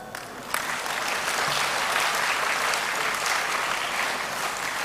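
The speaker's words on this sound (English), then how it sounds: "Clap your hands." A room of school children clapping their hands at a class reopening, dense steady applause that starts suddenly and continues evenly, close and loud.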